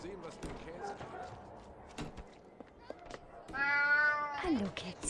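A cat meows in the video game Alice: Madness Returns, a drawn-out harmonic cry near the end that follows a stretch of other game sounds and effects.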